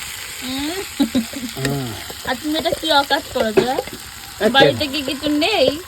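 Green chillies and raw peanuts frying in a hot pan for mirchi bharta, making a close, continuous sizzle and stirring scrapes, with a voice talking over it throughout.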